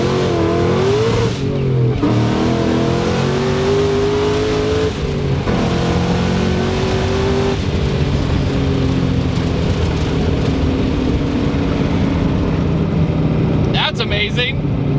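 A 900 horsepower Ford Terminator Cobra with a 3-liter Whipple supercharger accelerates hard, its loud engine roar and rising supercharger whine filling the clip continuously, with shifts breaking the pitch, and a voice calls out near the end.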